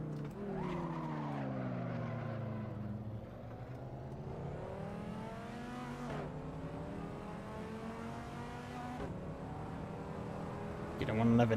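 Race car tires squeal and skid from understeer in Assetto Corsa ranked racing, a long sliding tone over a droning engine that revs up sharply at the end.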